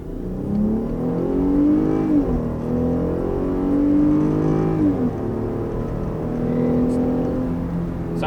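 A 2021 Jeep Grand Cherokee floored from a standstill, its engine note climbing steadily through the gears with brief dips at each shift, heard from inside the cabin as a loud, continuous drone.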